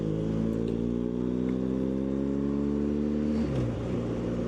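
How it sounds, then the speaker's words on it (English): Motorcycle fitted with an Akrapovic aftermarket exhaust riding in Scotland, a loud, steady droning engine note holding level and then dipping in pitch near the end, close and continuous with no talk. "The exhaust is quite a bit louder than I'm used to."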